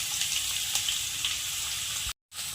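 Sliced onions hitting hot coconut oil for a chicken curry, producing a close, steady hissing sizzle that cuts out briefly near the end before resuming.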